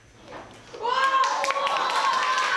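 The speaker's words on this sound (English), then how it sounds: "applause filled the classroom after these students received their secondary school placement results" Students in a classroom burst into applause after receiving their secondary school placement results; quiet murmuring gives way to loud, dense clapping mixed with excited young voices and shrieks.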